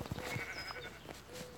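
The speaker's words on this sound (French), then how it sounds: "Viens là petit mouton, tu vas mourir." Sheep bleating in the Minecraft video game, a few short faint bleats close together with a quiet background and no talk.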